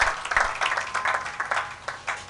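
A church congregation claps along in worship, a steady, rhythmic run of sharp hand claps that fills the room at a moderate distance, with no clear voices over it.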